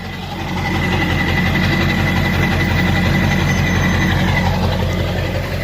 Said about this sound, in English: It just allowed it to echo a little bit more before exiting the exhaust. Also giving it a slightly deeper rumble.